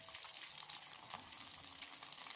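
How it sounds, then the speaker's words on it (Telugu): Green chillies frying in hot oil for tomato pachadi give a steady, close, crackling sizzle that holds throughout the short stretch, quiet overall and with no talking. "ఫ్రెండ్స్, పచ్చిమిరపకాయలు అయితే ఫ్రై అవుతున్నాయి కదా"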